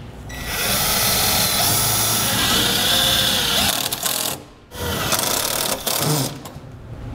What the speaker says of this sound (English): We can use the provided self-tapping screws and secure them right here to our cowl.